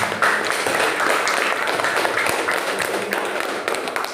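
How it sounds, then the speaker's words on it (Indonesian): Classroom audience applause in an Islamic religious education lesson, a dense burst of many hands clapping for about four seconds, fairly loud and close. "Beri tepuk tangan."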